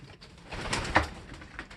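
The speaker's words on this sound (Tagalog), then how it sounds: "Sa pagpakawala ng ibon ko." Pigeon released during a club training session: a brief, soft flutter with a faint coo, quiet and close, with no voices.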